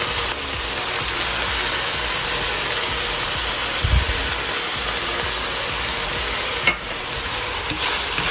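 Cooked pork empanada filling is stirred in a hot pan, giving a steady sizzle with soft scraping throughout and one low thump midway.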